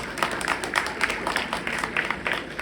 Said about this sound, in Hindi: आप हजरात की तरफ से इनके लिए भरपूर तालियां होंगी